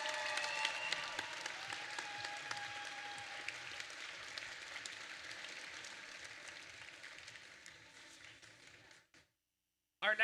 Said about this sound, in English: One more round of applause for our first Dean's List semifinalists.